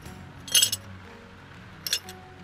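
An old glass jar, like a marmalade jar, holding pieces of starboard lantern glass, clinks twice up close, with bright short chinks about a second apart against a quiet background.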